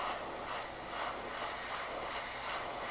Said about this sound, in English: so I'm actually going to airbrush left-handed.